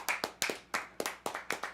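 A single pair of hands clapping at a Christmas concert, close and crisp, in a quick steady rhythm of about eight sharp claps with no other voices.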